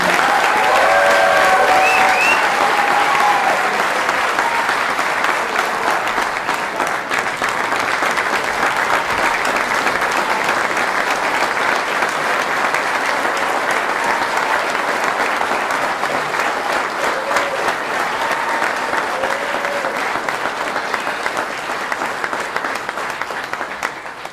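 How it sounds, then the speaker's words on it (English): Audience at a military retirement ceremony gives a long, loud round of applause, a dense continuous clapping that fills the hall and fades only slightly toward the end. "please join me in a round of applause for all of our retirees and their families"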